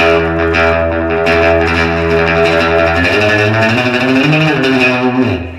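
Distorted electric guitar playing sustained chords and shifting notes, with a washed, reverberant tail and a rich effected tone throughout.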